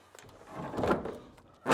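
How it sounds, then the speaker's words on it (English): The sliding door of an old DIVCO truck rolls shut with a short scraping glide, then a firmer knock as it seats at the end, fairly close by. "The door's closed good."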